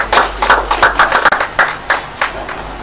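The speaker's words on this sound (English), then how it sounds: "Please put your hands together for him." Audience at a live event claps in quick uneven bursts, loud and close, with the clapping briefly fading and picking up again.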